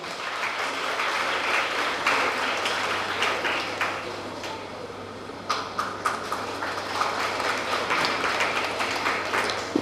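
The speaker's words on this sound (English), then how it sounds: "Let us admit a huge round of applause to her." Sustained applause from an audience at an educational institution's ceremony honouring SSLC, PUC and degree toppers, a steady dense clatter of many hands lasting throughout with no talk over it.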